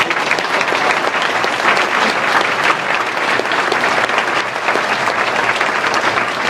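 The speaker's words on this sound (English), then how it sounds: "another round of applause" A graduation ceremony crowd bursts into sustained applause for departmental staff, a dense, loud wash of many hands clapping evenly throughout with no voices above it.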